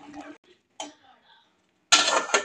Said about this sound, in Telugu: ఒకసారి మిక్స్ అయితే చేసుకోవాలి.